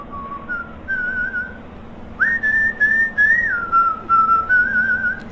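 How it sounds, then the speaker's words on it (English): A loud whistled melody plays in the cooking game Hot Pot for One, clear sliding tones in two phrases separated by a short pause, with soft background sounds under it and no talk. "the whistling is very loud."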